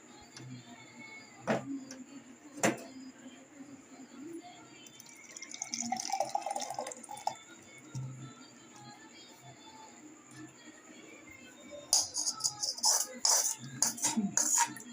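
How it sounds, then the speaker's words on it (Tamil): Homemade ghee is poured into a silver vessel, giving soft liquid trickling and occasional drips with a few light clinks of metal, fairly quiet and close, with brief busier handling toward the end. "நல்லா ஆறின உடனே ஒரு சில்வர் பாத்திரத்தில் ஊற்றி வச்சுருவோம்."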